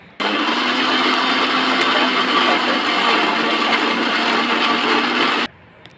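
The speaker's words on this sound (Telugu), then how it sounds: "ఇప్పుడు మనం మిక్సీ అనేది పట్టేసుకుందాం" An electric mixer grinder churns fried onion chutney with a loud, steady whir. It starts abruptly, runs evenly for about five seconds, then cuts off, leaving faint background noise.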